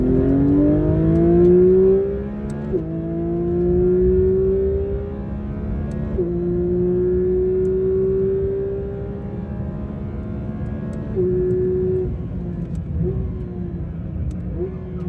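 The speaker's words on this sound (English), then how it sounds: "this is where you will not be able to hear anything but the engine" A Porsche sports car engine roars loudly at close range on the Sepang race track, climbing through the revs with repeated gear shifts, each pitch rise dropping back before climbing again.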